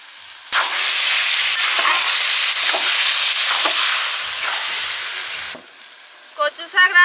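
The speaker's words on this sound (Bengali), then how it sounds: "কচু শাক রান্না হচ্ছে ওদিকে" Taro greens cooking in a pan, a strong steady hiss and sizzle that starts abruptly, holds for about five seconds with faint pops, then cuts off, followed by a few short clattering sounds.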